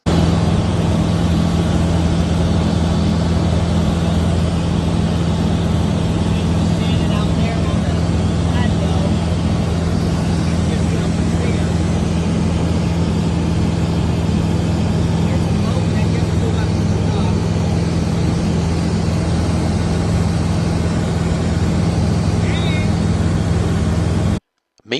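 A small airplane's engine drones steadily and loudly in flight over a lake, a constant low hum with a strong propeller tone that continues unbroken for the whole stretch before cutting off abruptly.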